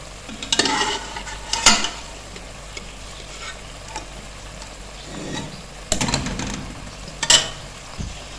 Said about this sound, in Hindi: अब हम इसमें ऐड कर देंगे अपना चिकन